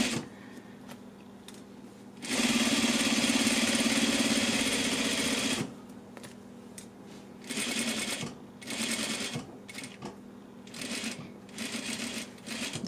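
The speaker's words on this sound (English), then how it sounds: "And I'm going to start at my top edge and do my 3/8 seam allowance." A sewing machine stitches a slant pocket seam on pants, running in several bursts: one long steady whirring run, then shorter stop-and-start runs with pauses between them, loud and close.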